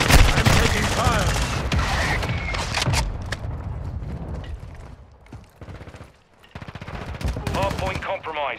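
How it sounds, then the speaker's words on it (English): Loud rapid automatic gunfire from Call of Duty Modern Warfare II, dense bursts of shots near and far that ease off midway then pick up again, with game voice callouts over the shooting. "I'm taking fire."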